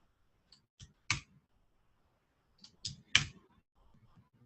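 A few scattered computer keyboard key presses, two small clusters of sharp clicks separated by quiet, fairly close and crisp with no talking.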